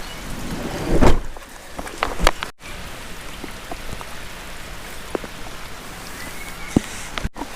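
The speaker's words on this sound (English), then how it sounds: "it's absolutely chucking it out. And to be fair, this rain isn't as heavy as it has been." Heavy rain pours down at a campsite, a constant dense patter broken by a few louder nearby drips and knocks.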